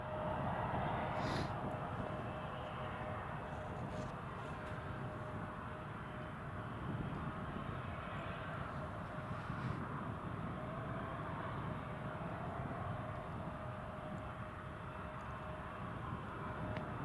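Aircraft taking off from Newcastle International Airport on a short takeoff run: a steady, broadband engine roar held throughout at a moderate distance, mixed with wind noise and no voices.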